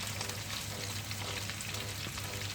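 Fish, palamut or whiting, frying in hot oil, a steady dense sizzle and crackle that holds up close and even throughout, with no voices.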